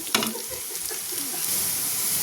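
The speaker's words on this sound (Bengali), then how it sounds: "তো দেখো আলুটা কিন্তু ভাজা হয়ে গেছে" Potatoes frying in a pan, a steady close hiss of sizzling oil with a brief clatter of a utensil at the start, no talking.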